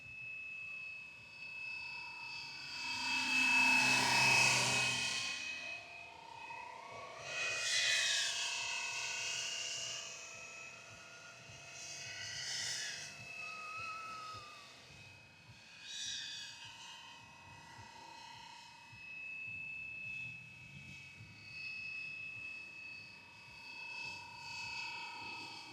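A Fly Wing EC135 "ACE" scale RC helicopter flies outdoors in a rising wind, its rotor and motor whine swelling loudly in passes and then settling into a steady, moderately close hum with a constant high-pitched tone.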